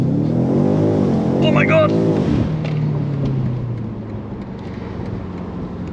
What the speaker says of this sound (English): So DSC off, track mode, launch control.